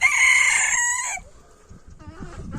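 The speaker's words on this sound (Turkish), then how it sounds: "Bir horoz 4 tavuk oldu." A rooster crows loudly and close by, a long drawn-out call, then hens cluck more softly afterward in a backyard flock.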